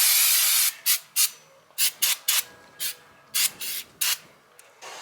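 Spray brake cleaner is aimed at the brake parts of a 2015 GMC Denali during a pad and rotor job: one long hissing blast, then about a dozen short bursts of varying length, close by, with no one speaking.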